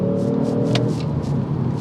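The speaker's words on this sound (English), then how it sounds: "Active exhaust note is on." The active exhaust of a 2022 Genesis G70 Launch Edition sports sedan rumbles at a standstill in the road, giving a low, steady engine drone with a brief throttle blip partway through.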